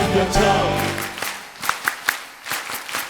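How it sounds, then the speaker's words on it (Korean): Hands clap in a steady rhythm along with a Korean worship song, producing a run of sharp claps after an opening stretch of sung voices, with the singing continuing faintly underneath. "손뼉쳐"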